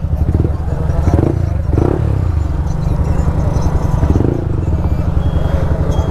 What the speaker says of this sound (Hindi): इतने ट्रैफिक से, और यहां भी ट्रैफिक है।